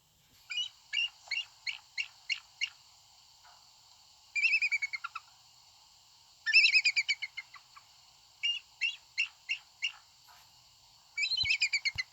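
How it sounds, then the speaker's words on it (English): Bald eagle calling in a quiet setting: several bursts of thin, high, rapid piping chirps, each a quick descending series of notes, repeated with pauses, clear and fairly close with no talk. "But this is what a bald eagle really sounds like."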